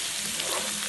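Country chicken (juttu kodi) fries in a pan, Telangana style, with a dense, steady, close sizzle and no breaks and no voices.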